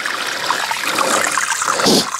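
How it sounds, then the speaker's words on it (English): Water gushing down through the pipe of a ram pump supplying a dairy goat farm, a steady close rushing flow that swells into a louder surge near the end, with no talking. "Boy, the water I poured in from up there is coming down."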